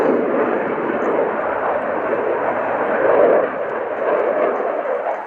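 A Eurofighter jet fighter flying a display at the RIAT airshow at Fairford, its engines producing a loud, steady, broadband roar that swells slightly midway and holds for the whole stretch.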